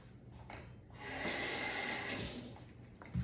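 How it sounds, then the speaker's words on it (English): A sponge is rinsed under a running cold kitchen tap: a soft, steady stream of water rushes and splashes for a couple of seconds, fairly close and quiet, with no talking. "I literally just damp and ran it under the water one time"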